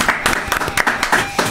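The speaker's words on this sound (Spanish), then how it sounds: "Así que, chiquillos, un aplauso a ustedes también." Applause from a small group in a radio studio, a few seconds of uneven clapping with bursts, close and moderately loud, with some voices mixed in.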